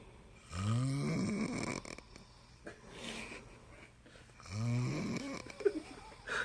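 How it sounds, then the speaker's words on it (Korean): Two people snore loudly in near unison, deep rumbling snores repeating in a slow rhythm with quieter breathing between them, recorded close up. "자 이렇게 코를 오지게 골고 있는 상황입니다"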